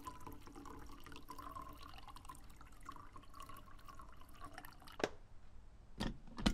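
A coffee machine in a horror video game gives off a continuous trickling brew with a low hum, and near the end a few sharp, distinct drips ring out up close.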